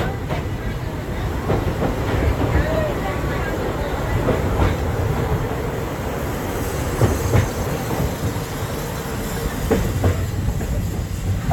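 A Magic Kingdom railroad train rolls steadily along its rails in a continuous rumble with faint rhythmic wheel clacks, heard at moderate distance throughout.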